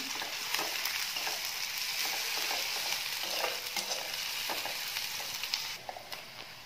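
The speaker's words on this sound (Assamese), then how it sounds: "আগতে মই ৰঙালাও বাকলি ভাজিখিনি বনাই ল'ম।" Pumpkin peel stir-fries in hot oil in a kadai, giving a steady close sizzle broken by repeated scraping and stirring clicks, with no talking.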